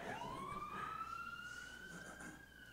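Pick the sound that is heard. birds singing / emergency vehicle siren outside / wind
emergency vehicle siren outside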